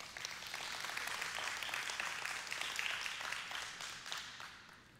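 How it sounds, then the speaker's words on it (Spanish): A church congregation claps together in steady, faint, distant applause that continues evenly for several seconds. "¿Por qué no le dan aplauso al Señor?"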